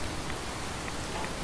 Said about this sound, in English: standing here smoking in the rain